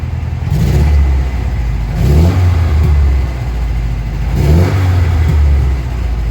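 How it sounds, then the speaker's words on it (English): A 1979 Alfa Romeo Alfetta 2.0 with carburettors needing tuning revs repeatedly, its engine note rising and falling in three loud, close surges with rough edges that hint at backfire. "a little bit of backfire"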